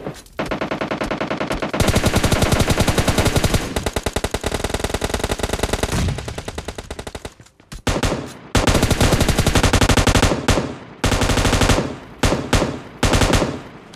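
Automatic gunfire in PUBG Lite, long rapid bursts of a machine gun such as the M249, loud and close, broken by short pauses and a few clipped bursts near the end.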